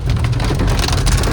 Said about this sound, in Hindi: बिल्कुल ऐसे बारिश दिख रही है